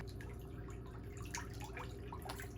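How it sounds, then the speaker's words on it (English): Water drips and sloshes softly in a basin as a foot is lowered back in to soak, small quiet splashes over a steady low background hum. "now we're gonna put that foot back in the water and we're gonna let it soak a little bit more"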